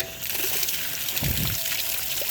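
Water runs steadily in an alley in the Claruz district, a loud close trickle and pour that fills the whole stretch without pause.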